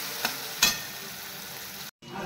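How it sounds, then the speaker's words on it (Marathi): Tomatoes and onions fry in hot oil in a pan, giving a steady close sizzle broken by a couple of sharp stirring knocks and a brief cut to silence near the end. "त्यानंतर टोमॅटो मऊ होईपर्यंत आपल्याला भाजायचा आहे."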